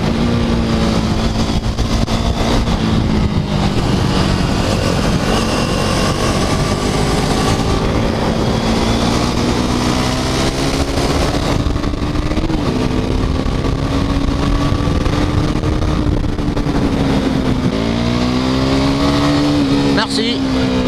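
KTM RC 390 motorcycle riding through a series of bends, its engine droning loud and steady with rising and falling revs, with a voice talking over it throughout.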